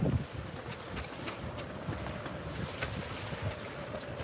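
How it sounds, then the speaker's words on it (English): Strong wind gusting across a boat anchorage with whitecaps, a loud continuous rushing roar mixed with sloshing waves and buffeting against the microphone, with no voices. "wind and waves never looks bad on camera"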